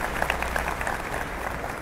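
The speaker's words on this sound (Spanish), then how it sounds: "un aplauso fuerte también para ella, por favor" Audience applause at a public event with Guatemala's president, a steady crowd of hands clapping at moderate loudness with no one speaking.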